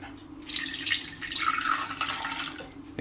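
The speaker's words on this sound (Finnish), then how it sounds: "Pistetään vettä vähän sinne." Water is poured into a pot of browning ground beef, making a loud hissing, splashing sizzle that runs continuously for a few seconds with no talking.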